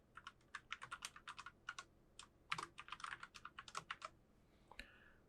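Keys clatter on a computer keyboard as a username and password are typed, bursts of quick, close clicks with short pauses between them and a final firmer tap.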